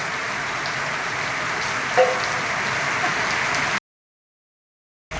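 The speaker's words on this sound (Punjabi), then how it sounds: "ਮੀਂਹ ਪੈ ਗਿਆ ਜੀ ਫੁੱਲ" Steady rain falls with an even, soft hiss on surfaces, then the sound drops out abruptly near the end.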